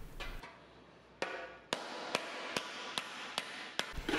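Sheet metal hammered while shaping a motorcycle fender, about eight sharp ringing blows at a fairly even pace, close and clear with no voices.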